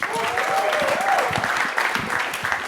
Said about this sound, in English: let's give Rama and Rayad another hand